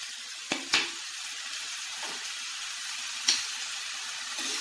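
Potatoes and onions sautéing in a pan give a steady, moderate sizzle with no talk, broken by a few sharp stirring clicks and scrapes.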